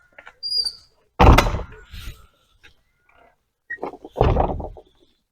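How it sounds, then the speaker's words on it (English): An old churchyard church door swung open, with a heavy creaking groan and thunk, then a second squeaky drag a few seconds later, close and loud, with birdsong faintly around it. "as I open the door to leave"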